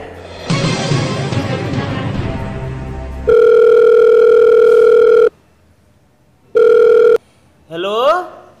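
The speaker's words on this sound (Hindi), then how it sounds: "कंप्यूटर महाशय जी, खदेरन दोस्त को फोन लगाया जाए" After a burst of scrambled electronic noise, a steady telephone tone sounds twice with a silent gap between, followed by a short warbling electronic chirp.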